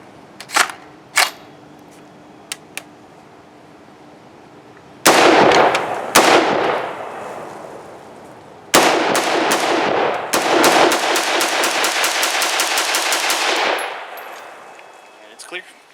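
A TommyBuilt T36K carbine fitted with a flash hider fires for the first time: a few sharp isolated shots, then two loud rapid bursts of rippling reports, the last a long fast string that ends in echo.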